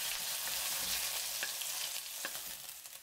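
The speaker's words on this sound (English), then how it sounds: "the chicken pieces have a nice color. Leave another 1 minute and 30 seconds. Then stir for 10 seconds." Chicken pieces sizzle and fry steadily in a hot pan for a stir-fry with sweet potato noodles, a continuous bright crackle broken by a few sharp stirring scrapes, close and alone.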